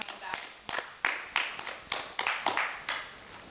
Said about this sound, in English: Give him a round of applause for coming back.